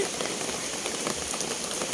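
Rain pours down at a forest temple, a dense, even hiss of drops striking surfaces that continues steadily throughout.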